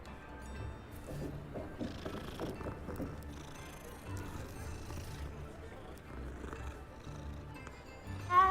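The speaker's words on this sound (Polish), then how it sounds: "I kotka głaskamy." A cat being petted in the Hogwarts Legacy video game purrs softly and continuously, a faint low rumble under game ambience and a voice talking throughout.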